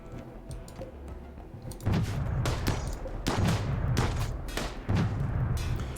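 Rapid gunfire from crew members popping out to shoot in the Space Piracy video game, with a dense rattle of repeated shots and sharp bursts that swell louder partway through and continue without talk.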